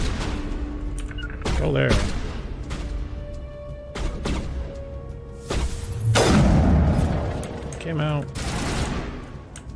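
Gunfire in the video game Mass Effect crackles in several sharp bursts and booms, loud and close, while people talk over the action.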